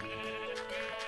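A single short sheep bleat from a sheep farm in Minecraft PE, a clear, moderately loud wavering call lasting about a second with no talking.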